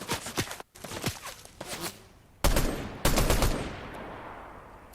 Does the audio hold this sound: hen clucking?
no